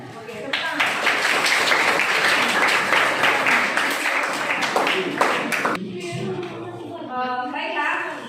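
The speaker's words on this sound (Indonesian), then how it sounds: "Oke, tepuk tangan." A classroom of students breaks into sustained applause after a presentation, steady clapping filling the room for several seconds before thinning out, with children's voices and chatter rising underneath toward the end.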